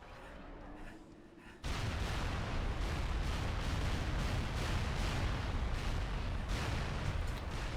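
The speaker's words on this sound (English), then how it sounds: "Those explosions are so fucking loud," Dense, roaring explosion noise from the video game Halo bursts in loudly after a quieter opening and keeps rumbling and crackling continuously, with no one talking.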